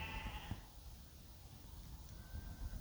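Sheep bleating outdoors at Treak Cliff Cavern in the Peak District, Derbyshire: a faint, brief harmonic call near the start over steady low outdoor rumble, then fading into background noise.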